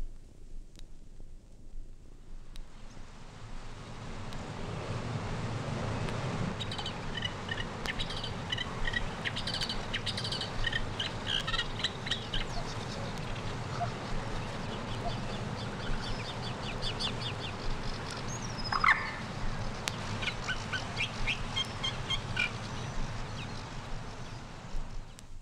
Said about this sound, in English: Reed warbler, Acrocephalus scirpaceus,